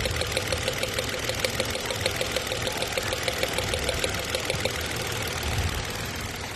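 A Mitsubishi Mirage engine running rough and shaking, a steady close idle with a rhythmic knocking pulse running through a dense mechanical drone, continuous and loud with no voices.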